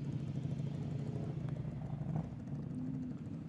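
Honda CBR 1000 motorcycle engine running at a steady idle during a group ride in Thailand, a continuous low rumble that holds even and unbroken throughout.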